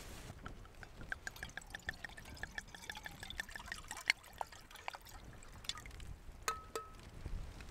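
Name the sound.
pouring a little splash of drink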